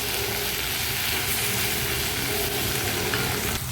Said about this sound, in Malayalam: 1 സ്പൂൺ കാശ്മീരി ചില്ലി പൗഡർ കൂടി ആഡ് ചെയ്ത് കൊടുത്ത് ഒന്ന് നന്നായിട്ടൊന്ന് മിക്സ് ചെയ്തെടുക്കാം